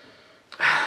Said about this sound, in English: So let's give it a sniff.